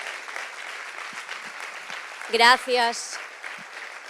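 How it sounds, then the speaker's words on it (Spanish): An audience applauds the technical crew at a Galician afternoon event, a steady dense patter of clapping running throughout, with a person briefly speaking over it midway. "Se lles podedes dar un aplauso porque levan moitas horas traballando."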